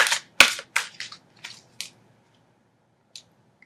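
Tarot cards shuffled by hand in quick, crisp bursts, several sharp riffling snaps in a row close up, then a pause and a few faint final taps, with no talking.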